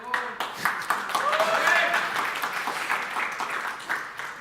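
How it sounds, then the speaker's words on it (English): Audience applause, a steady wash of clapping that swells and then tapers over a few seconds, heard alongside a speaking voice. "Getting a lot of applause."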